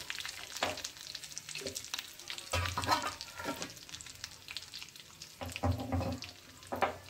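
Curry leaves and turmeric powder sizzling in hot oil in a pan while a Kannada kadale kalu usli dish is cooked, a crackling fry with bursts of stirring and clinks, close and continuous.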